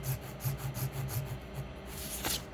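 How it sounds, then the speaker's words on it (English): An Ender 3 S1 3D printer nozzle scraping across the print bed during auto home, producing a rhythmic rasping, rubbing vibration in quick repeated strokes, close and fairly quiet with no talk. "you can hear the vibration of it scraping"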